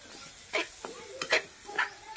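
Fried food coated with chili powder is stirred in a pan, a soft sizzle broken by three or four brief scraping strokes, close and quiet.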